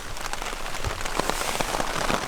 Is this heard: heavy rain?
yes